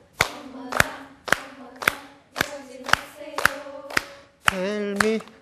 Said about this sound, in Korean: 박수를 한번 같이 치면서 해보세요.